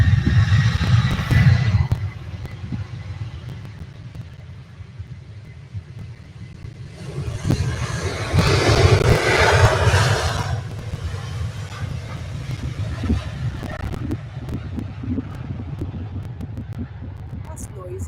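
Jet airliner engines at Manchester Airport produce a loud, continuous low rumble that swells into a louder roaring surge partway through and then settles back, with people talking over it.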